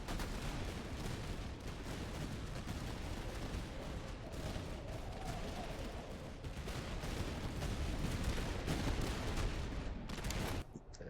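Napoleonic-era artillery and musket fire in the Master of Command strategy game on an Austrian campaign battlefield, a steady, distant-sounding rumble of overlapping shots and booms that continues without pause.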